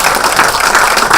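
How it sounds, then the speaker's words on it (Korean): Applause from members of a party assembly meeting, a dense, steady wash of many hands clapping at once, fairly loud and continuous through the short stretch, with no speech over it. "박수 좀 쳐주세요."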